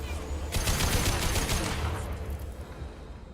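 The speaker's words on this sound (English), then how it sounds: "I have to test the black hole gun" The black hole gun in Mass Effect 2 fires in a loud, dense rapid burst of crackling pulses over a deep rumble for about a second and a half, then a rumbling tail that slowly fades.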